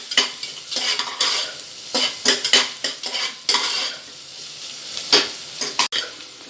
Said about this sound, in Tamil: இந்த வெங்காயத்தை நல்லா வதக்கணுங்க, வதங்கட்டும் நல்லா.